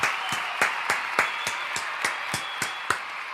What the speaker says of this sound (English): A round of applause for Billy